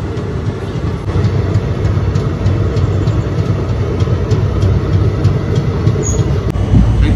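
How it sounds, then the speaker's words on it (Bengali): Teesta Torsha Express (13141) pulling out of Khagraghat station, a steady close rumble of rolling wheels and carriages with faint rhythmic clatter, continuous and loud throughout, with no talk. "এই খাগড়াঘাট ছেড়ে বেরোচ্ছে ট্রেন"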